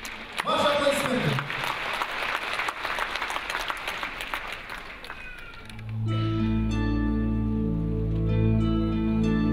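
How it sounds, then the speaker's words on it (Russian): Concert hall audience applause at the Moscow Kremlin Palace awards, dense clapping for about six seconds before giving way to sustained instrumental music. "Ваши аплодисменты."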